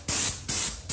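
A wallpaper removal sprayer set to low spray releases three loud, close hissing bursts in quick succession, each cut off by a brief pause.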